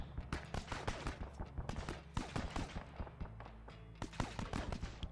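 Gunfire in the military game ARMA 3, with sharp repeated shots and bursts, some in rapid automatic strings and some irregular, over a low rumbling background.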